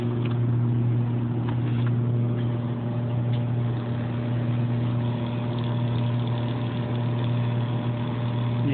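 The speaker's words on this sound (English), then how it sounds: "5-volt, 550 milliamp power supply to our little fan" A small electric fan motor running on a 5-volt, 550-milliamp power supply, with a spinning figure glued onto it, makes a steady, continuous hum and whir at close range, with no talking.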